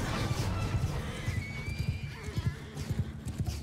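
Horses in the Mount and Blade 2 Bannerlord battle gallop with rapid rhythmic hoofbeats and a whinny rising above, loud and close amid general battlefield noise.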